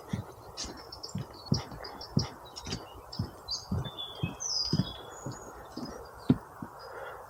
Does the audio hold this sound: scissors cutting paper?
no